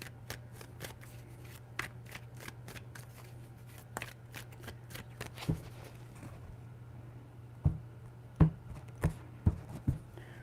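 Tarot cards shuffled by hand, rapid papery riffles at first, then a pause and a few sharper separate taps and snaps near the end, close and clear over a low constant hum.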